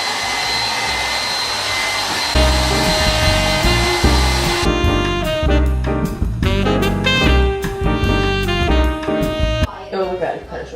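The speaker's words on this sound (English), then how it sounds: "Should I blow dry my hair?" A hair dryer runs steadily through the whole stretch while music with a strong beat plays over it and grows louder partway through, the blower's whoosh sitting under the music.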